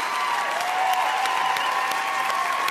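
A large gala audience applauds steadily in a continuous, dense wash of clapping, loud and sustained throughout with faint cheering mixed in.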